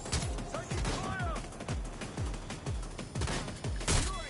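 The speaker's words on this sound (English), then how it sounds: "Shots fired!" Rapid bursts of gunfire from a Watch Dogs Legion firefight, sharp repeated shots in quick uneven rhythm, loud and close with overlapping reports and echoes throughout.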